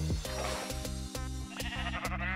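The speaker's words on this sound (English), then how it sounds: "No, the sheep is burning!" A Minecraft sheep bleats repeatedly while burning, its harmonic cries layered over a steady rhythmic game soundtrack with regular beat-like pulses, fairly loud and without talking.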